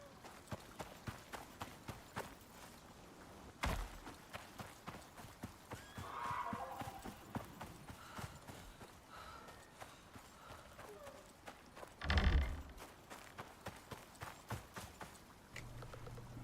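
Horse hooves clip-clop steadily in the Icarus survival game, a regular walking rhythm of hoof hits with a louder thump near the middle, while a voice talks intermittently over the top.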